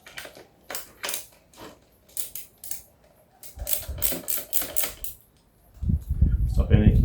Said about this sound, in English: I'm just going to put the countersunk screws into position, and that will hold the lid in one spot then